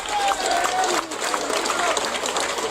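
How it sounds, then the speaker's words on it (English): Dense, steady clapping from a crowd at an event, given as a round of applause for international partners, runs loud and unbroken for the whole stretch, with voices mixed into the noise. "give our international partners a resounding round of applause"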